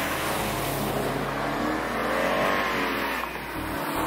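A 2020 Subaru BRZ engine revs loudly and steadily, a continuous low drone that rises and falls slightly in pitch, with no talk over it.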